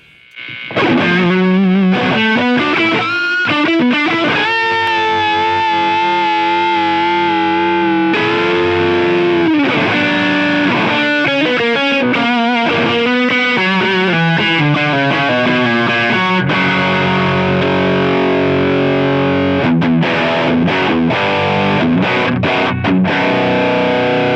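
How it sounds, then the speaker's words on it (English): Distorted electric guitar through a Line 6 Helix with a lead boost engaged and an Empress Echosystem delay, playing a loud, sustained lead line with chords and repeating echoes throughout, with no talking. "Let's kick on the lead boost, and you'll hear how much of a boost we're getting now."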